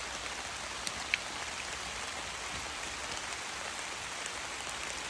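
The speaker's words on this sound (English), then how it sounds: "I did not expect it to rain this hard." Heavy rain pours down on a lake around a kayak, a steady, dense hiss of drops striking water and surface that fills the whole stretch at an even, loud level, with no voices.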